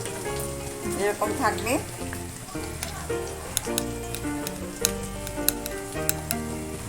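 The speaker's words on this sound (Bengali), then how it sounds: "ভালো করে ভেজে নেব, একদম লাল করব না" Chopped onions sizzle steadily in hot oil in a pan for a jackfruit pickle dish, with stirring scrapes and crackling pops running through, while a voice speaks briefly over the frying.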